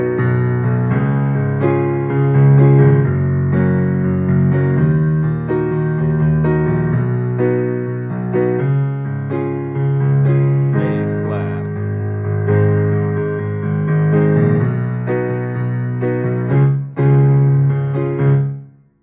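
Two-handed piano chords play the chorus of a song, a steady loud sequence of full sustained chords with a low bass line, alone with no talking.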